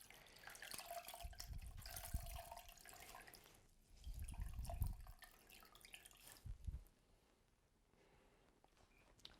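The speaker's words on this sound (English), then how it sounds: "Let's wet the tea towel again. And I'm just doing this in my jug." Water splashes and drips as a tea towel is dipped and wrung in a jug, in several wet bursts with quieter dripping between them, close by and fairly soft, with no talking.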